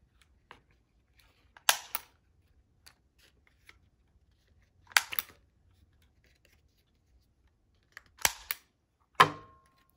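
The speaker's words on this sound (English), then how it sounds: "I'm going to staple it." A hand stapler pressed through paper for a craft project gives several sharp, isolated crunching clicks spaced a few seconds apart, close and clear against a quiet room.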